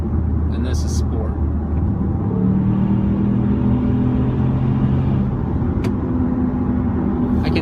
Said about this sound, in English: see if you guys hear a difference from me having it in drive versus putting the transmission in sport mode